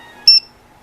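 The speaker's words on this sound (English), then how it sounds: "like all these KVM things, they have such loud beeps" One short, piercing electronic beep from a four-port KVM switch, loud and close, sounding alone against near silence.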